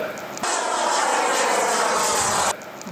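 A radio-controlled Aermacchi MB-339 model jet engine gives a loud, close, steady roar that starts abruptly, holds for about two seconds and then cuts off.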